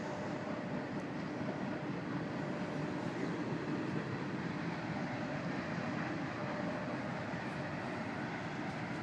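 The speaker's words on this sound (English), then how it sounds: "There's the afternoon freight train." An afternoon freight train passes, a loud, continuous rolling rumble and rail noise that holds steady for the whole stretch with no break.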